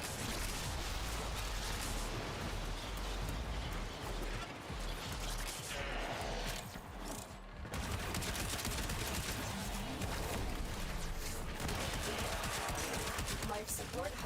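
A video-game gun firing delayed explosive rounds that blanket an area: a continuous dense barrage of crashing blasts and crackling bursts, loud and sustained throughout, with a brief lull midway.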